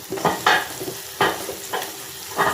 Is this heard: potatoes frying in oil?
yes